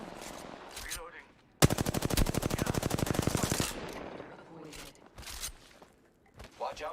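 A long, rapid burst of automatic gunfire rattles for about two seconds during a video game firefight, loud and close, with brief voices before and after it.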